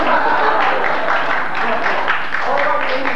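Theatre audience at a musical performance applauding: steady, dense clapping fills the whole stretch, loud and even, with a murmur of crowd noise underneath.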